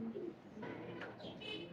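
Rampuri pigeon giving a soft, low coo close by, a single short throaty call under faint background noise.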